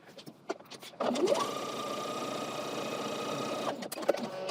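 A sewing machine stay stitches a coat neckline within the seam allowance, running one steady close whirring burst of a few seconds with soft handling clicks before and after.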